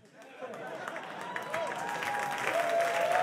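Comedy club audience at a stand-up special breaks into applause that swells steadily over a few seconds, a dense wash of clapping filling the room at moderate volume.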